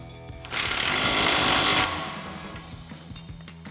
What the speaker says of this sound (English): we'll grab our 15 mil socket on our impact and our 18 mil wrench